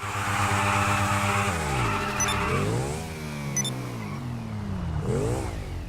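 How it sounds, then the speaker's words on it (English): A Pegassi Bati 801 motorcycle does a burnout in GTA V, a loud close engine roar with rising and falling revs and sweeping pitch glides alongside tyre squeal, with no talking. "So we're going to go ahead and get started with a burnout."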